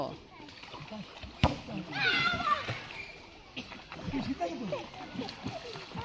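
Children splash and duck under in a village pond, with a sharp slap of water near the start, then choppy splashing and rippling under the children's voices and adult calls.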